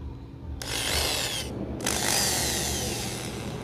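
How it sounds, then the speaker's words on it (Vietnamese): A 420 W Hitachi multi-purpose drill running at 100 V whirs loudly in two bursts with a short stop between them while its iron and wood drilling modes are switched. "Đây là mình đang chỉnh chức năng khoan sắt và khoan gỗ ha"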